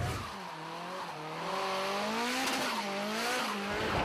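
Customized drift cars race flat out, tires squealing in long wavering howls layered over revving engines, loud and continuous with no talk.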